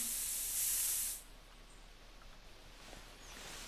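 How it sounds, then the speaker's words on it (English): Scent spray from a hunting item in the video game theHunter Classic gives a steady hissing spray burst for about a second, then fades into quiet windy ambience. "let's put some scent spray on."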